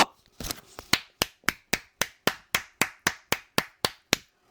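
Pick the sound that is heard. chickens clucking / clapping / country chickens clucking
clapping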